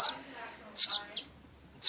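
An orphaned baby sparrow lets out a few sharp, high chirps in short bursts while being hand-fed small pieces of worm, close up with faint background noise.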